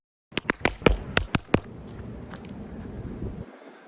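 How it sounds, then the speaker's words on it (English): A resin bulletproof visor takes a fast series of sharp, hard strikes, about seven close cracks in under two seconds, followed by a low rustling and wind-like noise. "So it did crack, but right down the middle."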